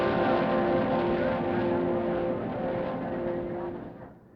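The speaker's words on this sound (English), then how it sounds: "bring Tommy Ivo's 4-engine dragster to the Nationals. 4 Buick engines, 1 engine for each wheel" Tommy Ivo's four-engine Buick dragster, one engine per wheel, roars down the drag strip at the 1962 U.S. Nationals, a loud sustained multi-engine drone that slowly fades as it pulls away.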